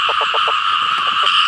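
Frogs croak in rapid pulsing bursts after rain in the rural Thai countryside, several short calls in quick succession over a constant high drone of insects or other frogs, close and loud.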